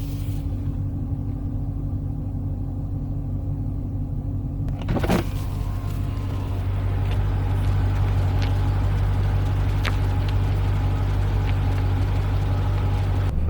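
Steady low rumble of tires rolling on pavement from inside a 2015 Dodge Challenger with a 3.09 rear differential, air conditioning off; continuous road drone with a brief bump partway through and no talking.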